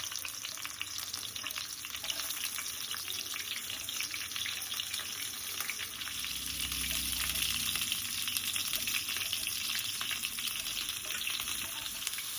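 Capsicum and mushrooms fry in hot oil in a pan, giving a steady, dense sizzle and crackle that swells slightly midway and runs on without pause and without any talking.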